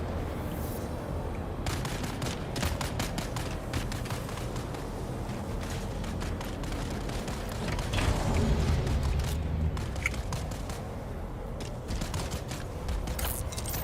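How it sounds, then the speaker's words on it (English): Gunfire in a survival video game cracks out in repeated irregular bursts of sharp shots over a dense rumbling mechanical background, with a heavier, louder stretch around the middle. "Somebody's shooting at me."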